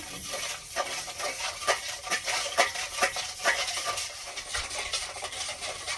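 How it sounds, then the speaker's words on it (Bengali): Sugar, oil and salt stirred together with sour yogurt and milk in a bowl for paratha dough, a spoon scraping and clinking against the bowl in a steady series of short taps, close and fairly quiet, with no talking. "অল্প একটু চিনি, 2 চামচ সাদা তেল, স্বাদ মতো নুন, ভালো করে একটু মিশিয়ে নেব"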